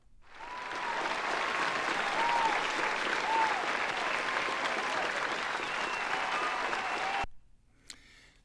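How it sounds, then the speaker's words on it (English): Sustained applause from a sizable crowd, steady and loud for about seven seconds, then stopping abruptly into near silence with a single faint tap. "we need a clapping for that"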